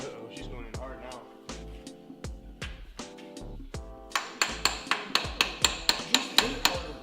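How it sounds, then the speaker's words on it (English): A hammer pounds on a car part during a 1JZ engine swap on an IS300, a close series of sharp metallic strikes, slow at first, then faster and harder in a rapid run. "Just hit it harder. Just pound it."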